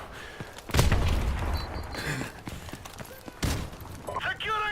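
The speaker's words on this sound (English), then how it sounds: "by spraying back and watching them run into the explosion" Frag grenade blasts in Modern Warfare Remastered, two sharp booming explosions a few seconds apart over a busy backdrop of in-game gunfire and clatter.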